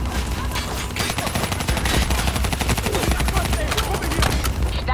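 Dense automatic gunfire from Call of Duty Black Ops 3, with rapid overlapping bursts and rattling shots layered over a heavy rumbling battle din throughout, loud and continuous, with voices calling out beneath the fire.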